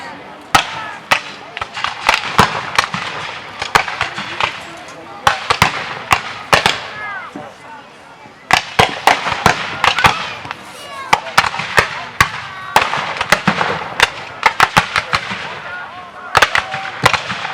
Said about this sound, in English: You see to the south side of the field now, some artillery firing into the flank of the Union soldiers.